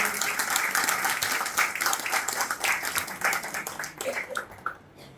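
An audience claps to welcome a speaker at a gathering in Morena, sustained moderately loud applause that thins out and fades toward the end.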